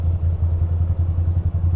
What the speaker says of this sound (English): the bike seems to be running, not shutting off.